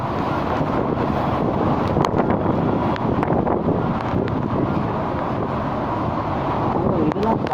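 Strong, steady wind from Cyclone Vardha in Chennai roars and buffets the microphone throughout, with a low rumble underneath and faint voices mixed in.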